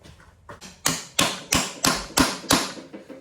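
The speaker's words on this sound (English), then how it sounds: "the shock of the bolt head being hit will also help loosen it" Six sharp, loud metallic hammer blows land in steady succession on a tool seated against a Mk5 VW CV axle bolt, each strike ringing briefly before the next, with no voices.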